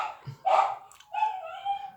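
Dogs barking nearby in a couple of short, sharp bursts with a brief yelp, loud and close, no talking over them.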